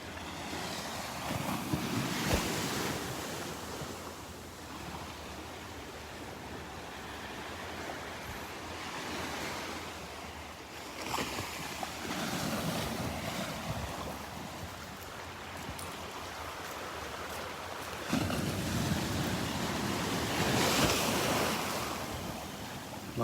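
Ocean surf at Delnor-Wiggins beach, with waves breaking and washing in at intervals of several seconds, swelling and receding against steady wind noise on the microphone.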